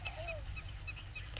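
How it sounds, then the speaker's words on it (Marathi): Birds chirp in a farm field in the evening, a few faint, high, short calls scattered over a steady low rumble of outdoor background noise. "पक्ष्यांची किलबिल चालू असते"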